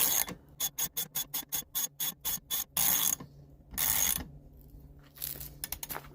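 A ratchet tightens a 1-1/16 inch nut on a 2022 Mercury four-stroke outboard motor: about a dozen crisp, evenly spaced clicking strokes come close and clear, then a few longer pulls and a final flurry of clicks.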